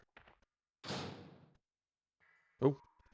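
Door in the PS1 game Resident Evil, a sliding creak swelling in and trailing off, then after a pause a sharp heavy thud, heard alone with near silence between.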